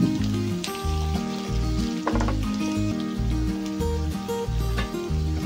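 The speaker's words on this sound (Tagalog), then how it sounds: "pra-fried muna natin itong guys, potato and carrots" Potato and carrot pieces pre-fry in a pan, a steady close sizzle running throughout beneath a rhythmic musical backing.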